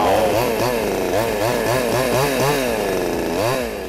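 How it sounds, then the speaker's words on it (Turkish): A blue Kingsaw chainsaw runs steadily after being started, its engine buzzing loud and close with a rhythmic, wavering revving pattern throughout. "Motorumuz çalışmaya hazır şekilde testeremiz"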